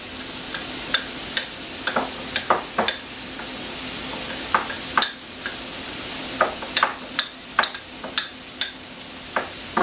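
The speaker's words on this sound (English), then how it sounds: "We got our ham frying in the pan." Steady sizzling of ham frying in a pan, with scattered sharp pops and crackles spread unevenly across the clip.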